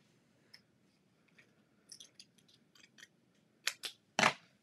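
Scissors trim the last bit off a sheet of paper for a scrapbook page, giving a series of small snips that build to a few louder, crisp cuts near the end, close up in a quiet room.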